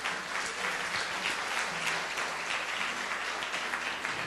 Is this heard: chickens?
no